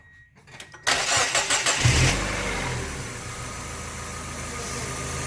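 A car engine cranks with a few rhythmic turns, catches and fires up, then settles into a steady, fairly loud idle close by.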